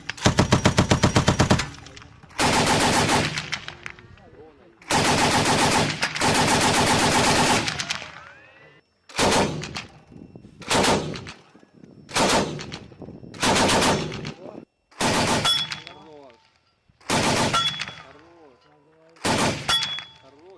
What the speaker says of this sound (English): they're going to practice training on the machine gun, which they keep on the top for close quarters